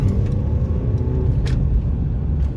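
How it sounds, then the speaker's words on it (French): A Mercedes C-Class W205 engine rumbles loudly up close, its low drone building steadily as the car accelerates, with no talking. "Petite accélération."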